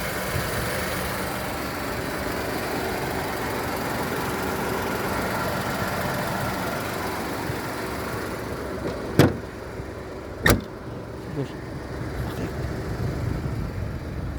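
A 2006 Skoda Fabia running on gas-petrol idles with its hood open, a steady even engine hum held close for the whole stretch, broken by two sharp clicks near the end.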